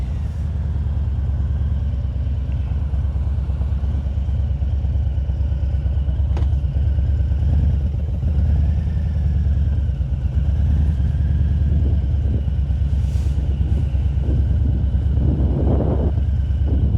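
A Harley-Davidson Lowrider S motorcycle rides at night, its deep engine rumble steady and loud throughout, mixed with buffeting wind noise at the mic.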